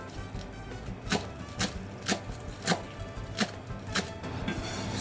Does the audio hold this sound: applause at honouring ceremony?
no